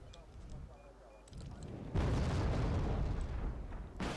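Mortar fire in the Wargame Red Dragon strategy game: a loud, rumbling barrage of booms that swells in after quieter battle ambience, holds heavy and dense, then hits again with a fresh blast at the end.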